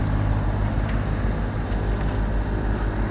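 A sailboat motoring under engine power on a choppy sea with somewhat bigger waves, its steady low engine drone and hull rumble continuous and close, with wind buffeting the microphone throughout.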